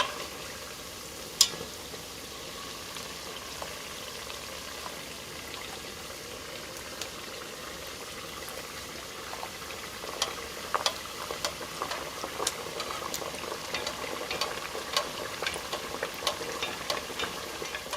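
Corn masa sopes fry in hot oil with a steady crackling sizzle, punctuated by sharp pops and occasional clinks, growing slightly busier toward the end.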